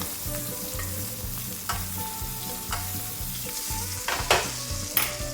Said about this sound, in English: Going to continue to baste it.